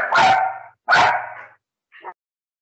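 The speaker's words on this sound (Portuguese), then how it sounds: "cachorro bravo aí." An angry dog gives two loud, harsh barks close by, followed by a short fainter yelp, with silence between them.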